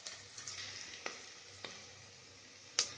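Turmeric and chopped vegetables sizzle steadily in a pan while cooking a spicy South Indian pulao, with a few sharp ticks and spatters of oil over the soft, continuous frying hiss.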